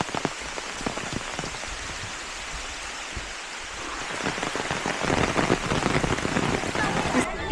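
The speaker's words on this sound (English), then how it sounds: "The sound of the rain is so peaceful." Rain falls steadily in a forest wildlife park, a dense patter on leaves and surfaces that swells louder in the latter half, close and continuous with no voices.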